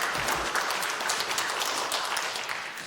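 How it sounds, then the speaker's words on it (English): An audience at a community singing event in Harbour Grace applauds itself, a sustained wash of clapping that swells then gradually tapers off, with no one speaking over it. "Clap for yourselves."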